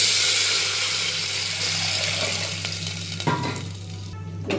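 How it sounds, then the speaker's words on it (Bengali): Masoor lentils and water go into a hot frying pan of browned onions, setting off a steady loud sizzle and frying hiss, with a brief splashing clatter near the end. "এবার ডাল আর জলটা অ্যাড করলাম।"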